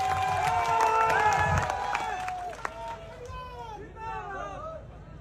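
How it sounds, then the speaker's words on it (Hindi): A crowd at a political rally in Masuda claps and cheers to honour a speaker: a burst of clapping and shouting in the first seconds that tapers off, with voices and amplified sound over it. "मैं चाहता हूं एक बार और अपने दोनों हाथ उठा करके ताली बजा करके हर्ष चिकारा का हम अभिनंदन करते हैं।"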